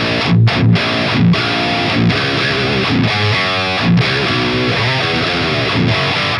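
Electric guitar through a Fortin Killer Kali preamp into a Brunetti amp, loud heavily distorted palm-muted chugs and sustained chords in a tight rhythmic riff with short gaps between hits.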